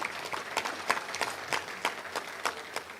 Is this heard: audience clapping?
yes